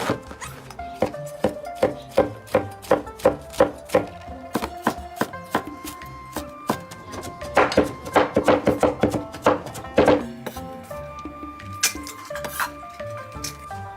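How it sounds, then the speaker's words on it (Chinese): A knife chops lotus cabbage on a board for a pork filling: close, crisp repeated strikes in a steady rhythm that quickens into rapid bursts midway, with no talking. "现在把莲花杯切碎"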